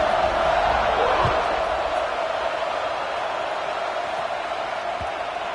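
A large stadium crowd roars steadily at a football game as the kickoff is about to happen, a broad continuous wall of cheering with faint thuds within it.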